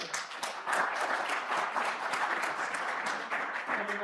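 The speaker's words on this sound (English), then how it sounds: "So please, applause for the First Federated Church." An audience in a newly renovated church space applauds at a lecture, a continuous crowd clapping of steady density heard at moderate level throughout.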